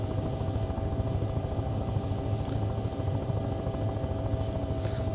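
A helicopter in the flight game Take on Helicopters, its rotor throbbing in a steady low chop with a continuous engine whine, loud and close throughout with no talking.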